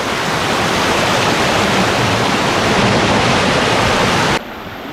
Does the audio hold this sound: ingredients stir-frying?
no